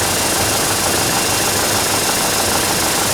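Diesel engine running steadily during an intake system cleaning, with cleaning product pulsed at 6 bar through a nozzle into the intake; a constant loud mechanical roar with hiss and no talking.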